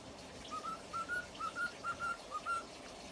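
A pet cockatiel whistles the X-Files theme indoors, a clear, close melodic line of paired rising notes repeated in a steady rhythm over a soft background hiss.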